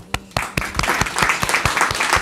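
Brief burst of audience applause, scattered claps quickly building into fuller clapping from a crowd.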